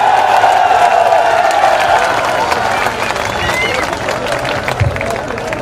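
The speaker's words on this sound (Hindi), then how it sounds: "जोरदार तालियां बजाकर उनका अभिनंदन करें, स्वागत करें" Rally crowd in Nawan clapping loudly in welcome, a dense wash of many hands applauding with cheering and crowd babble throughout.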